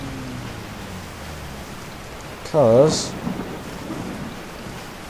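Steady rain hisses throughout this stormy scene from the video game Resident Evil 4. A low thunder rumble sits underneath early on, and a brief spoken word cuts through midway.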